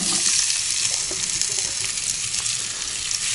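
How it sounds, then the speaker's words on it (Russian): Sliced potatoes sizzle and crackle in a hot frying pan on a wood stove, a loud, steady hiss of frying fat with faint spatters throughout. "И сразу же добавляем нарезанный картофель в сковородку."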